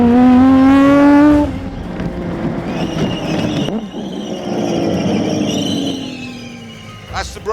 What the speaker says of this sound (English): That's the brakes. They are quite squeaky.